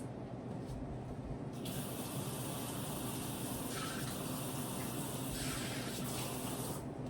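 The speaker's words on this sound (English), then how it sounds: "so I'm going to wash my hands" Hands being washed under a running kitchen tap, a steady close rush of water with the spray brightening and shifting as hands move through the stream.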